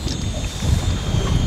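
Strong wind buffets the microphone during zander jig fishing out on the water, a loud, continuous low rumble that swells and gusts.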